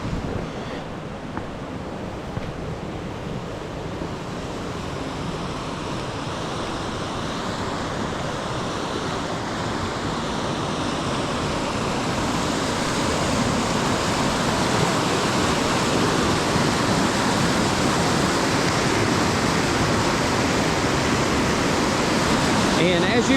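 A river swollen by heavy rain and melting snow rushes in a steady broadband roar along the Old Sugarlands Trail, swelling louder as the walker nears it, with faint footsteps and wind mixed in.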